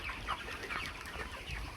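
Chickens cluck and murmur steadily inside a poultry farm shed, a dense mix of close and distant fowl calls with no talking.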